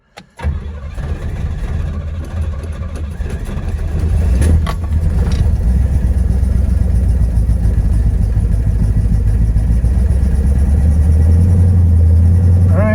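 A car engine cranks briefly, catches, and settles into a steady, loud idle that holds evenly for several seconds.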